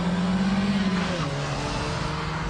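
A front-wheel-drive car runs a reverse flick into a handbrake turn, its engine droning loud and close with a falling pitch as it swings around, and tyre noise hissing underneath.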